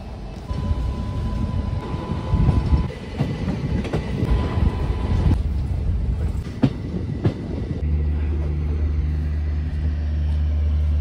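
The 12311 Netaji Express at Chandigarh railway station rumbles and clatters close by, with hissing and a clank or two, then settles into a steady low engine hum.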